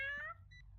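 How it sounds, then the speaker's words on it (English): A single short, bright cat meow from a kitten in City Supermarket Simulator sounds up front, followed by a faint electronic beep over a low game hum. "That meow is the cutest thing."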